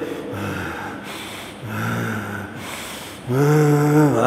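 A voice imitates heavy, angry snorting breaths, three forceful nasal exhales in a rising, uneven rhythm, close and loud.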